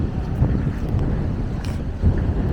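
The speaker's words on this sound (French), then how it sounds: "Bref, il y a un petit vent." A light wind gusts across an outdoor microphone in a low, steady rumble with a few soft buffets, faint and without speech.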